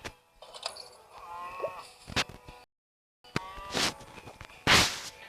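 Cartoonish cow moos in the farm game Hay Day, short and electronic, repeated a few times with clicks and bursts between them, after a brief pause.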